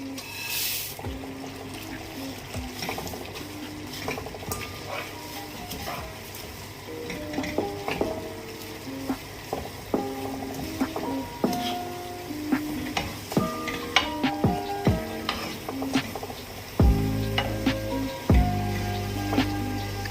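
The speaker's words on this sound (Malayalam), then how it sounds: "ഇത് നല്ലപോലെ ഒന്ന് തിളയ്ക്കണം. നമുക്കിനി ഇതിലേക്ക് ഈ അവിൽ കൊട്ടി കൊടുക്കുക." Poha sizzling and bubbling in boiling syrup in a pan with intermittent scraping and stirring clatter, a steady close cooking sound that grows louder near the end.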